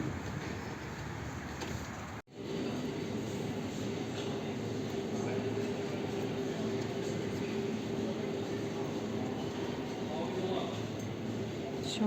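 Steady, loud rumble of a metro train in motion in Serbia, a continuous low roar with a faint hum, briefly cut off near the start.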